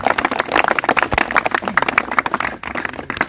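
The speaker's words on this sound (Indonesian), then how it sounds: "Tepuk tangan untuk Anda semua, Bapak Ibu." An Indonesian motivational seminar audience claps together, a dense, steady patter of many hands close by with no talking over it.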